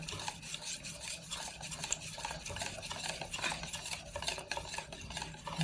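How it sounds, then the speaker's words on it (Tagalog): Sugar caramelizing in a pan under constant stirring, a quiet, rapid, rasping scrape of the utensil repeating steadily throughout with a faint sizzle beneath; no speech. "haluin lang ng haluin"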